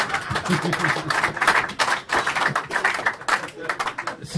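Applause from an audience at a documentary screening and debate, rapid dense clapping throughout with voices mixed in beneath it.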